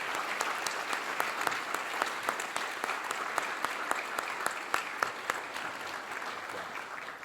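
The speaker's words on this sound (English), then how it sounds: "let's give them a round of applause" A crowd at a chamber of commerce annual meeting gives a round of applause for the staff and board, a steady wash of hands with sharp individual claps standing out throughout.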